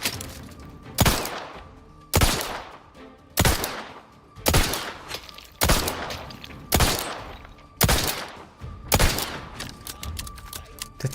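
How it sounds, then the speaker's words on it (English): Bursts of gunfire in The Outer Worlds 2 at roughly one-second intervals, each a sharp loud crack with a ringing tail, repeated steadily and alone over a low game ambience. "I'm not shooting into emptiness."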